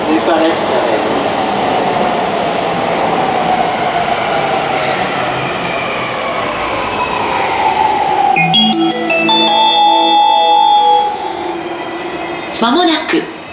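A JR E257 series limited express train rumbles steadily through Kanda Station, Tokyo, then brakes squeal with high metallic tones as it slows, followed by a brief clatter near the end.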